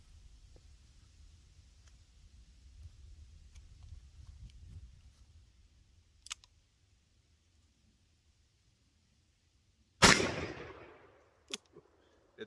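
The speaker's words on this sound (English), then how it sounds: "44 mag out of the Smith & Wesson 629 Classic. I'm going to load up a couple shots" A Smith & Wesson 629 Classic .44 Magnum revolver fires at a hand sanitizer stand: one loud, sharp report with a ringing decay after a long quiet stretch, preceded by a fainter pop and low handling noise.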